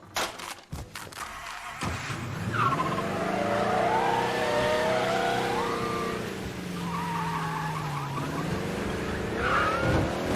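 A car in the Mafia Definitive Edition game revs hard and pulls away, tires squealing with a rising and falling engine whine, loud and close, after a few sharp thuds at the start.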